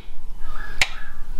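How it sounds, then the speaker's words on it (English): A single sharp hand clap in a backyard garage workshop, given once as a sync marker during work on a 1968 VE Valiant ute, standing out alone against quiet room tone. "You do the clap"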